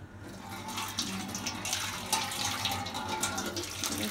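Tap water runs steadily into a sink while dishes are washed, a continuous close splashing stream with small clatters and no clear talk.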